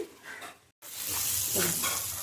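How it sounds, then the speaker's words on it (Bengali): Spice paste frying in oil in a pan for an eggplant curry, with a brief gap before a louder, continuous sizzle and stirring swell in. "খুব ভালো করে মশলাটা কষিয়ে নিয়েছি"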